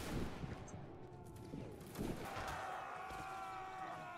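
Musket volleys crack in a Napoleonic line-battle video game, with several shots rolling together, then lingering echoes and a background hum. The shots sound distant and fairly faint.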